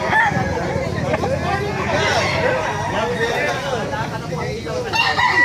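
Sweater-line gamefowl roosters at a market crow and cluck amid a busy crowd, with people talking nearby and background babble throughout.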